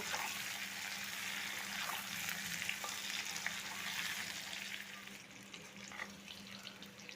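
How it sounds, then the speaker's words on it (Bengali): Eggplant, potato and taro frying in oil in a pan, a faint, steady sizzle with occasional stirring and small crackles, no voices. "বেগুন দিয়ে আরও কিছুক্ষণ ভেজে নেব"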